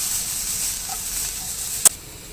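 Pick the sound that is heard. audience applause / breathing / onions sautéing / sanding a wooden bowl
onions sautéing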